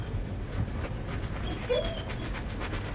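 A pet dog whimpers and pants softly in a room during a jackfruit eating session, faint breathy panting with a brief high whine, under steady background noise.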